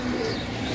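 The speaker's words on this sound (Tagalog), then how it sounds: "Dinig pa yung mga tinuturuan kong kalapati dito." Domestic pigeons cooing nearby, a low, steady murmuring coo that fills the short moment without any talk.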